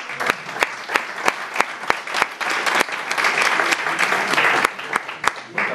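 An audience applauds steadily, a dense wash of clapping with a few loud individual claps standing out close by.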